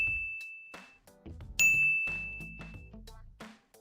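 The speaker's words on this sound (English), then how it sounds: "Give me more bells than that." Bright bell dings ring out in a few separate strikes, each with a long shimmering tail, alone and at moderate loudness as a sound effect.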